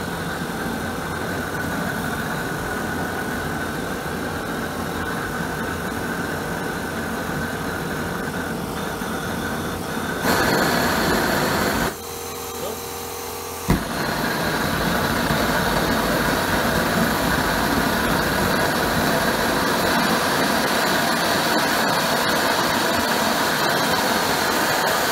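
A steam weed-killing machine's burner runs with a steady, loud roaring hum, briefly surging and cutting out in the middle before settling back into a constant roar; no talking.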